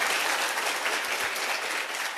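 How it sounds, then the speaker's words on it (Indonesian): An audience at an Indonesian business seminar claps together in dense, sustained applause that stays loud and even from start to end, with no talking over it. "Tepuk tangan dulu buat Anda deh"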